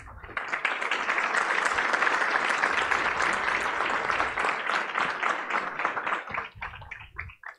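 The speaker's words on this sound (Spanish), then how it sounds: "Vamos a recibirlos con un fuerte aplauso." Audience at a Spanish-language economic forum panel breaks into strong applause, a dense sustained roar of clapping that swells, holds for several seconds and then thins out near the end.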